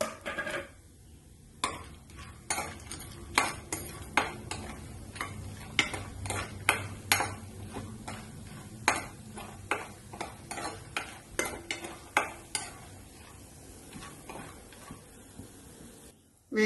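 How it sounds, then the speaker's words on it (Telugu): Sun-dried vadiyalu fritters fry in hot oil in a pan, giving a steady soft sizzle under frequent sharp clicks and taps of a utensil stirring against the pan. "వడియాలు వేయించి పక్కన పెట్టుకుందాము."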